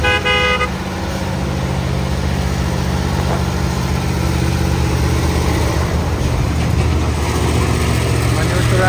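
Isuzu truck engine running on an uphill road beside trucks carrying an excavator and a container trailer, a loud, steady engine drone with a horn tone sounding early on, and a voice speaking over it.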